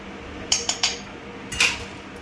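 Garlic is pounded with a pestle for egg garlic chili powder, about four sharp, close clinking strikes in an uneven rhythm, with no voices.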